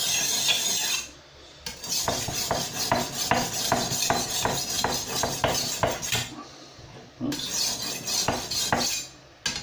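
A kitchen knife is rubbed back and forth on a whetstone in a steady rhythm of gritty scraping strokes, close and fairly loud, with a couple of short pauses between passes.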